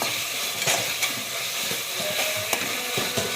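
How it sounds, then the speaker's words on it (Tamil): Onions sautéing in a pot for chicken biryani, a continuous crackling sizzle with occasional sharper pops and stirring scrapes, close and steady, with no talk over it. "வெங்காயம் வந்து நல்லா வதங்கணும் செவக்க செவக்கணும்"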